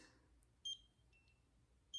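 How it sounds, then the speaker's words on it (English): A Nira skincare laser device gives short, high electronic beeps: two clear, close beeps about a second apart, with a fainter beep between them, over a quiet background. "when you hear the little beep, you know it's time to move to the next spot"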